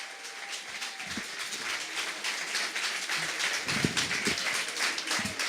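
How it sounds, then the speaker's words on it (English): An audience applauds the competing poets at a Friday night beer slam, a sustained patter of many hands clapping at moderate volume with a few louder claps near the end. "Give a round of applause to all the poets who have competed thus far."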